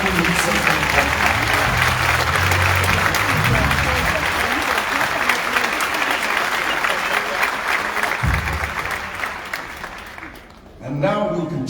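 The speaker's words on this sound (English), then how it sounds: "Another round of applause for Akron Symphony's Gospel Youth Symphony Choir." Loud, sustained audience applause for a gospel youth symphony choir at a mayoral swearing-in ceremony in Akron, with dense clapping that fades near the end before a low voice comes in over the room.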